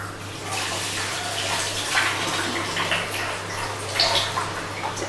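Water running steadily from a tap while hands are rinsed in a kitchen, a continuous close splashing stream with slight surges.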